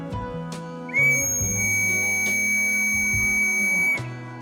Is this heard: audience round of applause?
no